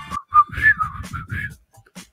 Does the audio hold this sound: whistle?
yes